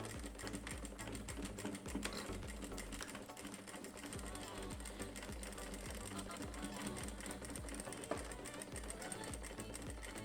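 A sewing machine stitches a seam along the zipper edge of an old jacket being remade, running steadily and closely in a continuous rapid mechanical chatter for the whole stretch.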